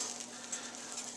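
Foamy butter sizzling in a pan while making a Monte Cristo-style sandwich, a faint, quiet crackle with soft pops throughout.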